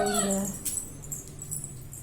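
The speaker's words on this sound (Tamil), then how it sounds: "வீட்டுக்குள்ளேயே இந்த நாய்க்குட்டி வந்து ஒரே உசர வாங்குது" A puppy whimpers indoors in a short, high whine that fades within half a second, leaving faint room noise behind.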